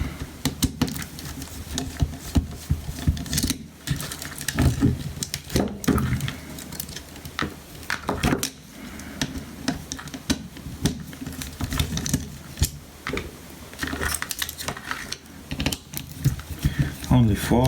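Screws are backed out of a Philips CD555 CD player's casing: dense, close clicking and scraping patter with irregular louder ticks, continuing steadily throughout.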